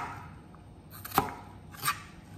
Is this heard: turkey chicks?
no